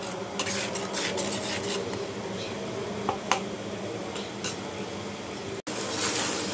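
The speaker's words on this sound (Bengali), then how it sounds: "সবগুলো মশলা আমি একটু ভালো করে কষিয়ে নিব" Spices, salt among them, sauté in a pan for a duck egg kalia, with soft sizzling and occasional light clinks and scrapes of a spoon, fairly quiet and without talk.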